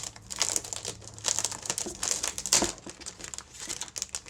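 Plastic wrap is peeled and crinkled off a boxed Logitech G613 wireless mechanical gaming keyboard, a close run of crackling rustles and sharp crinkles with one louder snap near the end.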